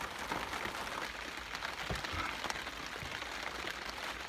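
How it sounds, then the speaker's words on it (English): Steady rain falls over an allotment garden in mid June, a constant dense hiss with scattered drip taps, heard from under a shelter with no talk. "it says that in about an hour it's going to stop raining"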